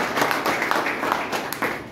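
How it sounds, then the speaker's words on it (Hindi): Audience applause with dense overlapping hand claps at a company rank achievers' event, steady and moderately loud throughout a short burst, for team leaders and mentors. "तो एक बार मेरा सारे लीडरों के लिए एक बार और गुरुओं के लिए जोरदार ताली"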